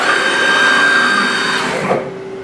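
A CNC machine driving its axes back to the home position, giving a steady whining motor drone with high tones for about two seconds that then winds down, loud and close.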